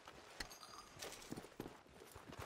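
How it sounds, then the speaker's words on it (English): Horse hooves clip-clop at a walking pace in Red Dead Redemption 2, a soft irregular series of hollow knocks heard fairly faint against a quiet background. "There's my horse."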